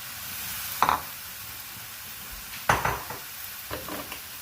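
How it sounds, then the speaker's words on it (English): Pork belly tipped back into a hot stir-fry pan with wilting vegetables, giving three sharp sizzling bursts with clattering stirring over a steady background hiss, close and fairly quiet. "We're going to add it back in the pork belly,"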